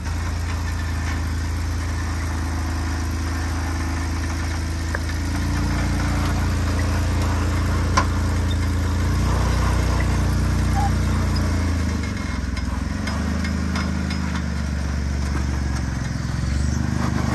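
An off-road vehicle engine growls steadily while climbing a rock wall on a hard trail, its low drone swelling and shifting pitch as revs rise midway, close and continuous, with people talking faintly beneath it.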